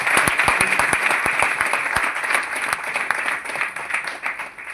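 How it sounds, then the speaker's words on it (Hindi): A seminar audience bursts into sustained applause, dense continuous clapping filling the whole stretch at a steady, fairly loud level. "एक बार ताली बजा लो बस चीज के लिए।"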